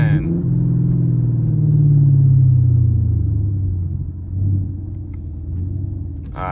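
A Camaro SS engine rumbles deep and loud while driving downhill in the rain, swelling and then easing off as the revs settle.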